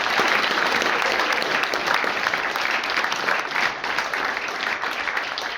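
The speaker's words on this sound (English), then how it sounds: "A big applause for Franz and all the" A crowd at an event applauds for a team, steady many-handed clapping filling the room at moderate loudness, with no break for the whole stretch.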